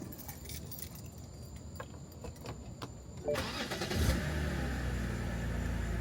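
A BMW car is turned on. Keys jingle softly, then the engine cranks and catches, settling into a steady nearby idle that keeps running to the end.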